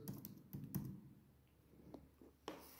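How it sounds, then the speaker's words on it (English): A few soft keystrokes are tapped on a computer keyboard to enter a command, close but faint, in a short scattered burst with a final key press. "so I just type motor and let's press enter"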